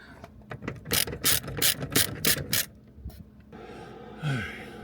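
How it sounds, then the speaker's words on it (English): A ratchet on a long extension loosening a part during an NSX clutch master cylinder installation: a quick run of about seven sharp metallic clicking bursts up close, then a short scrape. "I'm gonna get this long extension and ratchet"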